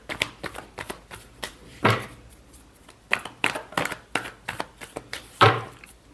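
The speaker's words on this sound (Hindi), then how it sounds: "last shuffle Gemini" Tarot cards being shuffled by hand, a series of crisp riffling flicks and soft slaps in uneven bursts, close and clear with no talking.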